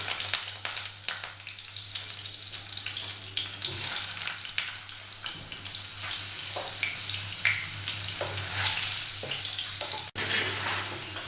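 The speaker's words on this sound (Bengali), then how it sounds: "আলুগুলো ভেজে নেব।" Potatoes fry in hot oil in a home kitchen, a steady dense sizzle running throughout with scattered crackles and stirring clinks, close and continuous, plus a low constant hum underneath.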